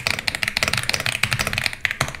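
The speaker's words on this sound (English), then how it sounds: "I hope you guys enjoyed that murderer keyboard ASMR" Computer keyboard typing for ASMR: a fast, busy run of sharp, close key clicks with uneven rhythm and no pauses. The clicks are loud and heard alone.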